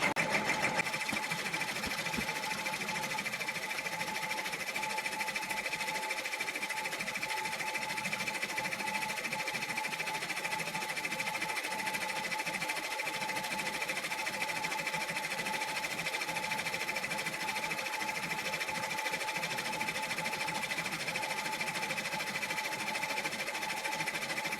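An embroidery machine stitches an organza sunflower coaster, its needle running in a steady, fast, continuous whir and patter from start to finish with no talking.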